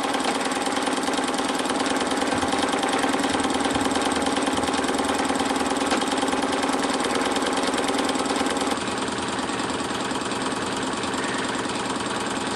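Small Bowman M122 toy steam engine runs at a fast, steady tick-over, a continuous close mechanical whir and rapid rattle holding an even level throughout with no voices.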